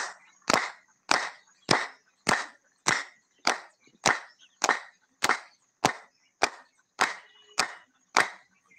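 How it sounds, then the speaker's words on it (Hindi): Hands clap sharply in a steady rhythm during a yoga class, about fourteen single claps spaced evenly roughly every half second, close and crisp with silence between them. "और तालियां बार बार बजाते हैं"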